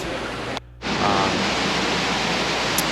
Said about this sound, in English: But here you can see a beautiful waterfall.